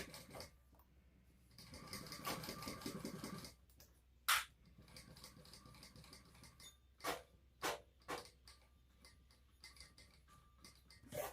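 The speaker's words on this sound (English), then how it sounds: "So it's almost going to be like a top stitch holding that on" A sewing machine top-stitches a pocket onto a bag, running in a short steady whir, then giving several separate brief stitching bursts and clicks, quiet and close.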